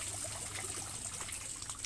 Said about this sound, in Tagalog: Palabas ng tubig.